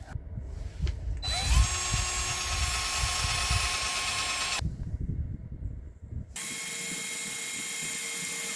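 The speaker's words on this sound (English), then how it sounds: "So I just need to drill it out now" A power drill whines loudly in two long bursts, drilling out a snapped nut on a Ford Transit Custom, with a pause and some clanking handling noise between them, close to the microphone.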